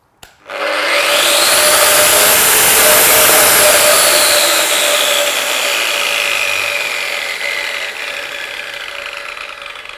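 A Metabo WEPBA 26-230 MVT Q angle grinder starts up and runs at a loud, steady high-pitched whine, then gradually winds down and fades over the final seconds; no voices.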